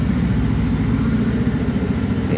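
A white dream motorcycle with chrome trim idles close by, a steady low rumbling engine note holding even throughout without any revving.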